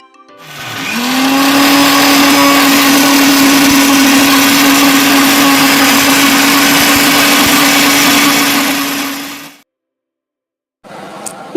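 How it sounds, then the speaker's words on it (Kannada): A mixer grinder blends boiled spinach with cumin, spinning up into a loud, steady whine that holds for about eight seconds. It then winds down to silence before a brief second burst. "ಇದಕ್ಕೆ ಒಂದು ಸ್ವಲ್ಪ ಜೀರಿಗೆ ಹಾಕಿ ಈಗ ಅದನ್ನು ಗ್ರೈಂಡ್ ಮಾಡ್ಕೊಂಡು ಬಿಡೋಣ."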